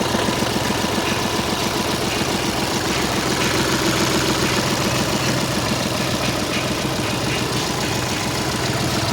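A diesel car engine idles in well-kept condition, a loud, close, steady rumble with an even rapid pulse that holds unchanged throughout, with no speech.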